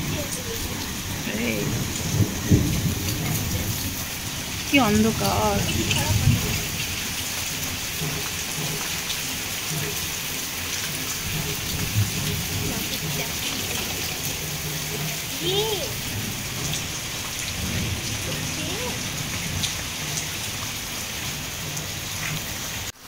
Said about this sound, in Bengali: তো চলো একটু তোমাদের দেখিয়ে দিই বৃষ্টি কতটা হচ্ছে, আওয়াজে তো বুঝতেই পারছো। আর মেঘ ডাকছে দেখো